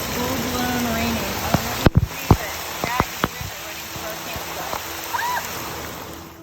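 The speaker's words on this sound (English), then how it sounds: "Here it is, full-blown raining." Heavy rain pours down on an RV with its awnings out, a steady dense hiss of downpour with scattered louder drips and splats close by, running continuously throughout.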